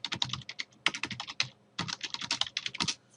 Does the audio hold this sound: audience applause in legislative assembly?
no